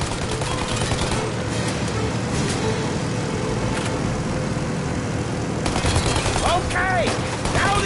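Gunfire in the Mafia Definitive Edition video game during a chase after a plane, a dense, continuous burst of shots under a steady roar of engines and wind, with a few sharper bursts near the end.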